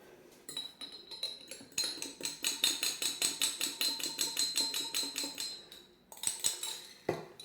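Lebanese fattoush salad tossed in a bowl, with rapid rhythmic clinks of a utensil against the dish, a brief pause, then another burst of close, bright tapping.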